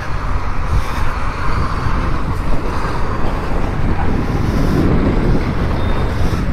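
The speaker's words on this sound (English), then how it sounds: "And it is so freaking windy." Strong wind gusting across a truck parking area, a loud continuous roar and buffeting rumble against the microphone with low traffic-like noise underneath.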